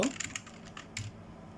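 Quick bursts of keystrokes on a computer keyboard while typing into a Windows search box, a handful of close clicks that fade to quiet.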